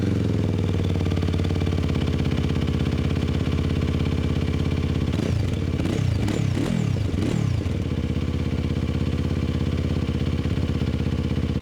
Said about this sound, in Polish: jak pracuje wydech na zimnym.